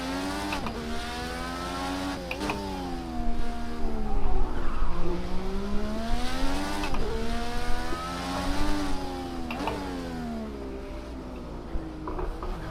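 An IndyCar on cold tires in a racing video game sends out a high, whining engine note that climbs and drops through gear changes and braking, with tires squealing and skidding over the continuous roar.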